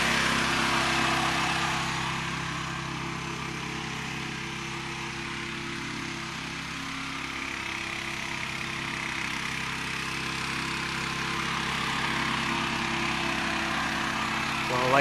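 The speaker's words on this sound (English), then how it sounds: "the Dakota top dresser" A Dakota top dresser's engine runs steadily while it spreads a light layer of sand on a golf green during spring aerification. The drone stays constant and fairly loud throughout, with no clear voices.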